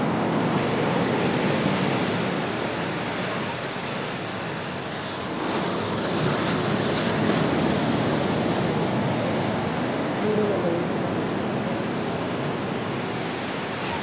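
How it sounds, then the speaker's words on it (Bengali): Large ocean waves at Tioman Island roar continuously as a dense, loud wash of surf, with wind buffeting the microphone throughout. "বিশাল বিশাল ঢেউ, বিশাল ঢেউ, বিশাল ঢেউ।"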